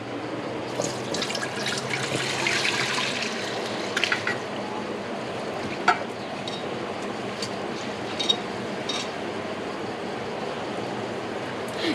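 Water runs and splashes steadily onto basmati rice in a rice cooker pot, a continuous trickling wash with a few small clinks and no talking.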